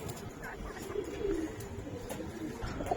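Budapest high flyer pigeons cooing in a loft, low soft coos repeating steadily close by over a busy background murmur.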